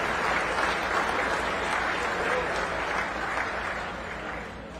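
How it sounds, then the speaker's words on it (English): Audience applause for the Grand National qualifiers at a tractor pull selection ceremony, a steady wash of clapping from a crowd that holds for several seconds and eases off slightly toward the end. "Let's give all the Grand National qualifiers a round of applause."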